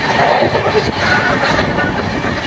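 Gour Express (train 13153), a night train between Kolkata and Malda, running steadily with a dense, continuous rumble and rattle of rail cars, loud and close throughout.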